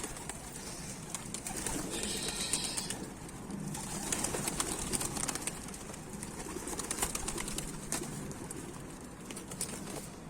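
Akkanat Ak Kuyruk tumbler pigeon on a rooftop, soft cooing and bird calls at a moderate distance amid outdoor ambience, with faint flutters and scattered clicks.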